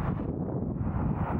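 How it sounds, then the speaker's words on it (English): Wind buffets the microphone in a low, rumbling gust that lasts the whole moment, outdoors at a chilly, windy landscape spot in Greece, with no voices. "It's a bit chilly, it's windy"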